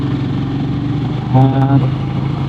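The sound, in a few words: motorcycle engine losing power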